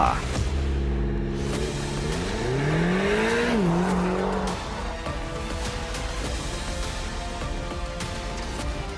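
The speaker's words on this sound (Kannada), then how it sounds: "ಇತ್ತ ವಿರಾಜ್ ಫಾಸ್ಟ್ ಆಗಿ ಕಾರ್ ಡ್ರೈವ್ ಮಾಡೋಕೆ ಶುರು ಮಾಡ್ದ" Car engine for an audio drama, driven fast: revving harmonics climb and swing in pitch as it accelerates, then settle into a steady loud rushing roar with no voices.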